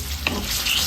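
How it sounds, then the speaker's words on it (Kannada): Chopped onions frying in hot coconut oil for egg curry give a loud, dense, continuous sizzle, close up, with a faint scrape of stirring in the middle. "2 ಈರುಳ್ಳಿನ ಕಟ್ ಮಾಡಿ ಇಟ್ಕೊಂಡಿದ್ದೀನಿ. ಅದನ್ನು ಸೇರಿಸ್ಕೊಂಡು ಚೆನ್ನಾಗಿ ಫ್ರೈ ಮಾಡ್ಕೊಳ್ಳೋಣ."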